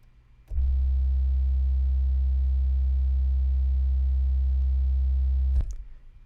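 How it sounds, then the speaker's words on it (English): A steady synthesized sine tone starts abruptly, holds at constant pitch and loudness for about five seconds, then cuts off cleanly. "Then my subtrack is just a sine wave."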